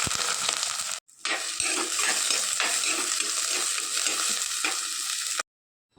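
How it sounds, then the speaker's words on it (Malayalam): Coconut oil sizzles in a curry pan set on the stove for fish curry, a close crackling fry with a few utensil knocks, cut by a short gap early on and ending abruptly. "കറി വെക്കാനുള്ള ചട്ടി അടുപ്പത്തേക്ക് വെച്ച് വെളിച്ചെണ്ണ ഒഴിച്ച്"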